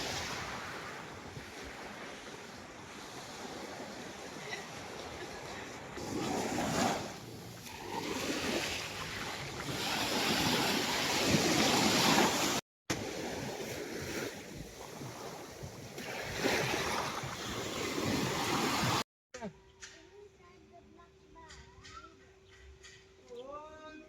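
Slightly rough sea on a Zambales beach, steady rushing surf and wind buffeting the microphone, with breaking waves swelling in loudness before the sound cuts to a quieter stretch with other noises.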